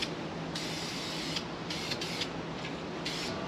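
Spray paint hisses in short bursts onto the welded-up door of a 1967 Mercury Cougar XR7, several quick sprays of about half a second each over a low background hum, fairly quiet and close.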